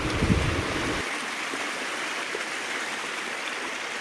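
A flowing stream on a rainy monsoon trek to Korigad near Lonavala, a steady close rush of water that stays even throughout, with no voices.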